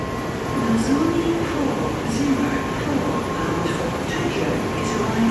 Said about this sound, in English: It's about 1 minute, the train is there.